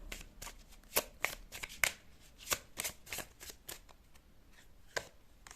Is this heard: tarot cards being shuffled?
yes